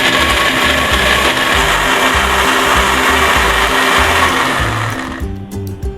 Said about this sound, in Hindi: अब मैं इन सब चीज़ों को कर लूँगी बहुत ही अच्छे से ब्लेंड।